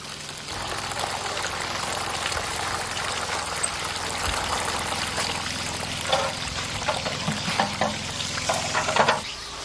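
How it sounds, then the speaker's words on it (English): Boiled sumikibuta being mixed into a wet lime plaster mixture, a steady close sloshing and squelching texture with irregular wet knocks growing busier toward the end, no voices. "The boiled sumikibuta is added to the lime mixture."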